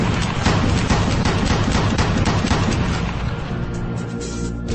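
Maxim recoil-operated machine gun firing continuously, a dense, loud, sustained stream of rapid shots with no pauses across the whole stretch.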